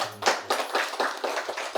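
A small group applauds at a home music and meditation gathering in Jayanagara, Bangalore, with close, steady hand claps in an even rhythm of about four per second and no voices.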